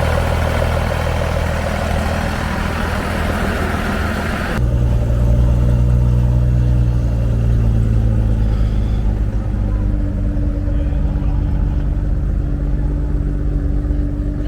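A turbocharged Jeep at a Cars and Coffee show idles with a steady low rumble close to the microphone, dropping to a deeper, smoother drone midway through.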